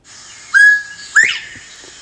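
A human whistle imitates a bobwhite bird call in two clear, close notes, a flat tone followed by a sharp rising slide, loud and alone.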